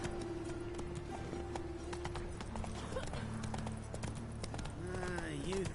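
A horse gallops in The Witcher 3 with quick, steady hoofbeats under a man's speech, ending in a whinny.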